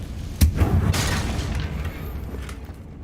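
A Confringo blasting spell in Hogwarts Legacy goes off as a single sharp boom near the start, followed by a rumbling, crackling tail that slowly fades.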